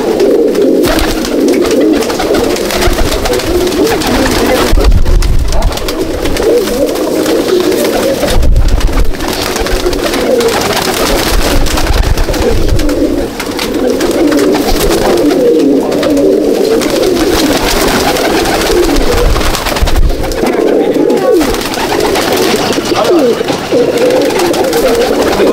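A flock of Malbai (Panjabi) pigeons fills a loft with continuous overlapping cooing and rustling, loud and close, with occasional louder bursts of wing and movement noise throughout.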